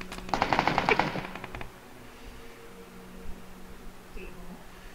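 A rapid burst of automatic gunfire in the battle royale game PUBG rattles off early, then fades into quiet low background noise.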